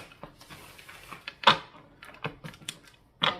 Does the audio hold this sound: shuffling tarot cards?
yes